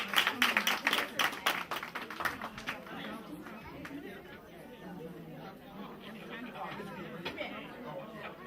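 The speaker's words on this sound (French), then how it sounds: "Applaudissez pour elle, s'il vous plaît." Audience at an annual Malian cultural centre conference claps warmly, with a burst of applause at the start that fades into lingering crowd chatter and murmuring.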